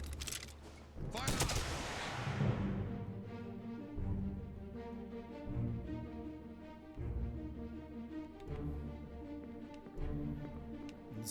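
A volley of musket fire from a firing line aboard a ship in Return of the Obra Dinn, one sharp loud crack followed by a long rolling echo, then a string of softer repeating thumps.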